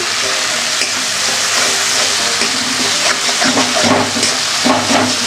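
Spice masala with salt and a splash of water frying in a pan, a loud steady sizzle and hiss with occasional stirring scrapes, continuous and close.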